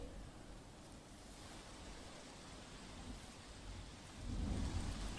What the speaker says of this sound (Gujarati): અમરેલીના રાજુલાના ગ્રામ્ય વિસ્તારમાં ધોધમાર વરસાદ પડ્યો